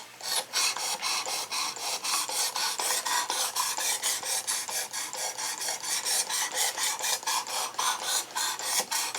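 A knife blade is drawn across the abrasive of a Work Sharp Precision Adjust sharpener in a steady series of close, rhythmic rasping strokes, about three or four per second, heard alone.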